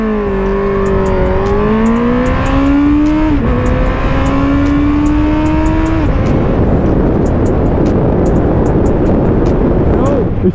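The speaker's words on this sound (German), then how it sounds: "Ihr hört, wie die Kupplung, wie das Bike kreischt." A Honda CBR650R motorcycle accelerates hard with the clutch slipping, its engine screaming upward through several rising pitch sweeps and gear changes, then giving way to loud rushing wind noise, close and intense.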